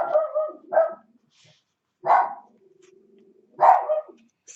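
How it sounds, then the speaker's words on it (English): A dog indoors barks loudly and close at a delivery arrival: about four sharp barks in uneven bursts, with quiet gaps and faint whimpering between them. "And there's the dog."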